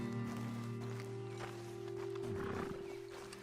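Horses in Red Dead Redemption 2 at a roadside ledge, a soft whinny and snort rising over a steady low rumble of ambient game sound, fairly close and moderately loud without speech.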